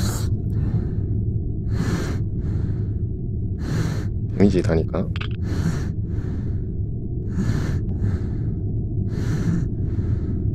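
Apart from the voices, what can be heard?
heavy breathing in Metro 2033 VRChat video game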